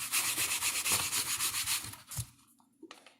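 Rapid rhythmic rubbing as a product is worked by hand over a dated ceiling fan, a steady scrubbing pulse for about two seconds, then a few scattered soft rubs and knocks trailing off.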